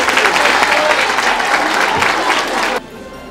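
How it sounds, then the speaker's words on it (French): Loud, dense applause from a school audience at a student government presentation, sustained for nearly three seconds before cutting off abruptly into near silence. "Sous vos applaudissements, s'il vous plaît."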